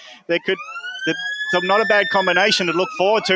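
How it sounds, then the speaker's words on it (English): A long, steady siren tone sounds at the start of a local Australian football game between Doncaster and Donny East, holding level for several seconds beneath a commentator's steady talk. "That is the siren to start the game here at Doncaster versus Donny East."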